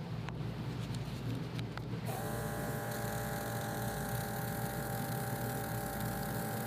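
Barber hair clippers switched to their lower power setting give a steady electric buzz with a constant hum that holds evenly and close after a brief start, with no talking over it.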